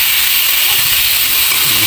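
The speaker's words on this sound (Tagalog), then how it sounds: "Kaya kapag brown na siya, mag-gisa tayo ng luya." Ginger and tomato sautéing in hot oil for a Filipino-style salmon head soup, a loud, close, steady broadband sizzle with no pauses.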